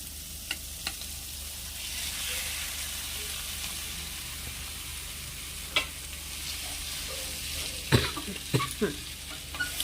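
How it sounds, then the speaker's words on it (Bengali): Boiled potato stirred and frying in a kadai: a steady sizzle carries through, with scattered scraping knocks of the spoon against the pan, growing busier near the end. "এবার আলু সিদ্ধ করে রেখেছি আলুটা, এটাকে কড়াইতে দিয়ে দেবো"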